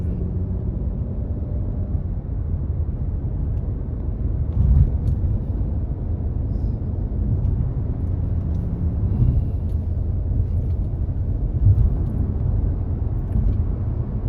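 Steady low rumble of a car cruising onto a highway in the morning, a continuous engine and road drone with faint swells, no talking.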